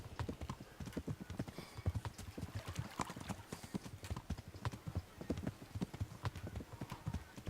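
Horse hooves gallop in a fast, steady clip-clop rhythm in the medieval video game Kingdom Come: Deliverance, loud and close, with a brief whinny possible and no talking.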